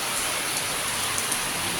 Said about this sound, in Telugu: ఏలూరులో భారీ వర్షం, క్లౌడ్ బరస్ట్